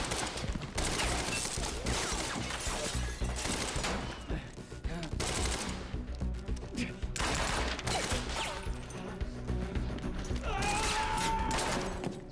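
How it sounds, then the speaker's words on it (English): Rapid bursts of gunfire echo in a lab in the video game Quantum Break, loud dense volleys separated by brief lulls, with impacts and clattering mixed in. "Shooting in a lab."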